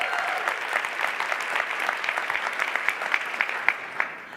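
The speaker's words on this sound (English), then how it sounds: "Can I get a round of applause if you like them?" A conference crowd at a sustainability event bursts into applause, a bright, loud, continuous patter of many hands that fills the room and holds steady with a few sharper claps near the end.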